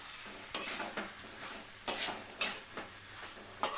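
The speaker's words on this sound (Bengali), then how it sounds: "এবার আমি এই সময় ধনে পাতা দেব। ধনে পাতা দিয়ে ভালো করে নেড়ে দেব।" Bengali kohlrabi curry being stirred with coriander leaves, a spoon scraping and knocking against the pot in several distinct strokes over a faint sizzle, no talk.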